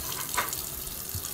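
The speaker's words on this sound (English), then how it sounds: "This is a normal faucet flow." Water running from a normal faucet in an RV: a steady, fairly loud splashing stream into a sink, continuous for the whole moment, with no voices.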